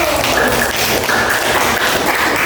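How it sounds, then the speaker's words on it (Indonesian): Classroom of students gives a round of applause for group 1 after their presentation, a steady dense patter of many hands clapping at once, filling the room at even loudness throughout. "Kasih tepuk tangan untuk kelompok 1"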